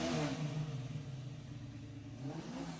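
A 1967 Chevy Nova Pro Street with a 700 hp big-block V8 revs loudly and close by, a strong rumbling roar that peaks at the start, eases slightly, then climbs again, with no voices.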